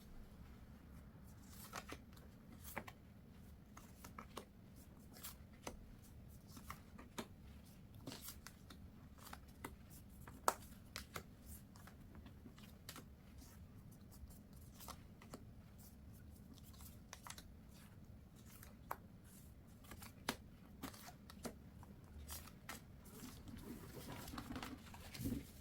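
A deck of tarot cards is shuffled and handled up close with soft repeated riffles, flicks and taps over a quiet low hum.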